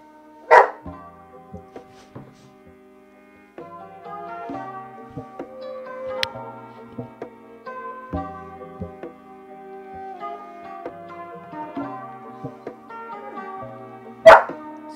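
A dog barks twice, one sharp bark near the start and another near the end, over a background of sustained tonal game music, with no speech.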